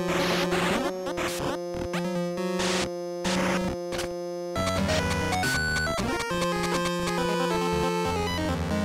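Glitchy, broken chiptune music from a modern Game Boy game stutters and cuts out in choppy bursts with abrupt gaps, then jumps into a dense, jumbled run of tones that clash and overlap.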